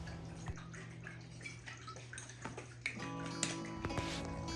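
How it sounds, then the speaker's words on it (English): Water is poured into a sauce bottle close by to rinse out leftover sauce, a quiet trickling and splashing with small gurgles. "Then I pour in a bit of water to rinse out the leftover sauce from the bottle."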